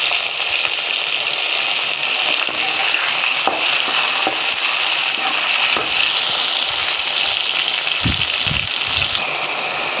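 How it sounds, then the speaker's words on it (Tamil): Tomatoes and onions fry in a pan with a loud, constant sizzle, joined near the end by a few soft stirring knocks and scrapes, with no voices over it. "தக்காளி வெங்காயம் நல்லா வதங்கிடுச்சு"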